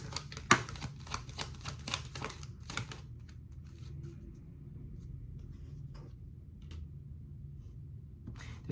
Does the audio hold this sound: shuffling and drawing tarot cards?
yes